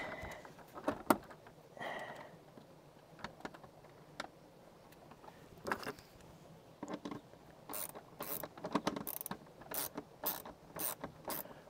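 Parts being screwed into place on a roof-vent housing, with quiet clicking and ratcheting in irregular bursts that turn into a quick run of sharp clicks toward the end, close by with no speech.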